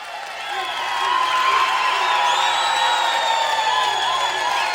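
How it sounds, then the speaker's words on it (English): Audience applause and cheering from a crowd at a polka show, a steady broad wash of clapping with scattered whoops that swells after the first second and holds loud to the end. "Let's have a round of applause."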